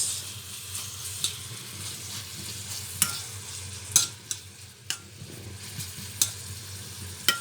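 Spices sizzle gently in a frying pan while a utensil stirs and scrapes, with sharp clinks at irregular intervals over a soft steady hiss.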